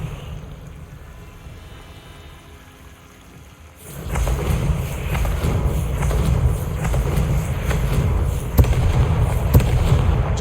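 A Confringo fire spell in the Hogwarts Legacy video game opens into a loud, dense, rumbling roar after a quieter stretch, with crackling pops scattered through it.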